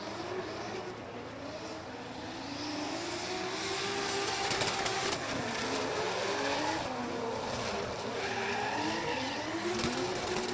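Drift cars battle around a race track at an international drift championship round in Oman, engines roaring and tires squealing continuously in a loud, sustained wash of skidding that swells slightly after the opening seconds.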